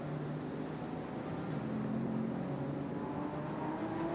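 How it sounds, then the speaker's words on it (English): A McLaren GT race car engine drones loudly and steadily, its pitch shifting slightly as it runs through turn 1 at Sydney Motorsport Park. "McLaren going through turn 1"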